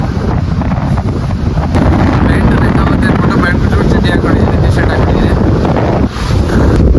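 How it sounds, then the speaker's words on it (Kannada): Heavy wind buffets the microphone in a loud, constant rumbling roar, with someone talking briefly beneath the gusts. "ಬೀಚಲ್ಲಿ ಎಷ್ಟು ಗಾಳಿ ಬಿಸ್ತೈತೆ ಅಂದರೆ ಸಿಕ್ಕಾಪಟ್ಟೆ ಗಾಳಿ ಬಿಸ್ತೈತೆ"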